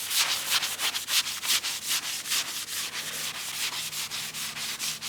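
Rag strokes wipe an oiled Bridgeport milling machine surface clean, about a dozen quick rhythmic back-and-forth rubbing swipes, close and fairly loud, with no talking.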